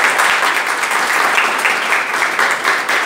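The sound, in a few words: applause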